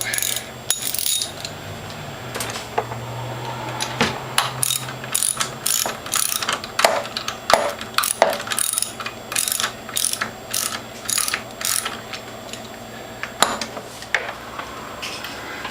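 Ratchet tightening a stuck hydraulic valve on a Norwalk juicer: rapid metallic clicking comes in repeated bursts, close and loud, with brief pauses between strokes and no speech.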